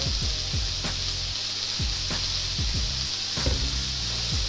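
Steak fries in olive oil in a pan with a constant close hiss and sizzle, joined by several soft low thumps and bumps from the pan and utensils, with no voices.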